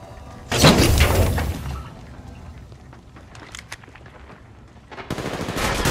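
Heavy automatic gunfire from the mobile battle-royale game Apex Legends Mobile, a loud sustained burst up front, a lull with scattered sharper shots, then another loud burst at the end.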